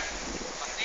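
Wind gusts buffet the microphone outdoors during horse work on sandy ground, a low rumbling rush that is steady and fairly loud.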